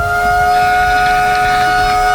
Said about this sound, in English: but the siren sounds